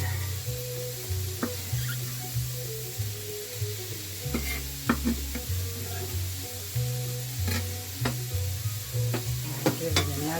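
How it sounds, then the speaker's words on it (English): Celery and other vegetables fry in a pot for a Lithuanian goulash, with a soft steady sizzle. A spoon scrapes and knocks against the pot in repeated stirs. "I'll give it another stir."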